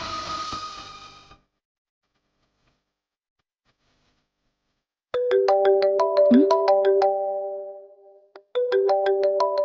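A phone ringtone plays a bright repeating melodic pattern, loud and close, starting after a silent gap and then pausing briefly before repeating.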